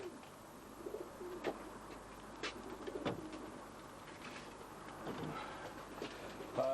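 Tippler pigeons in a loft coo softly against a busy, noisy background, with scattered low calls rising out of the steady hum.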